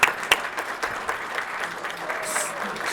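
An audience at a family business awards event applauds a winning jewelry company, a steady dense clapping from a sizable crowd that starts with a few sharp claps and holds evenly.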